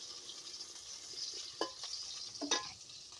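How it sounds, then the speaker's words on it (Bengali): Sliced green chilies hit hot oil with onions in a pan, a soft steady sizzle with a couple of brief stirring scrapes and clinks, fairly quiet and close. "চার পাঁচটা কাঁচামরিচ ফালি করে নিয়েছি, দিয়ে দিলাম। পেঁয়াজের সঙ্গে ভেজে নেব।"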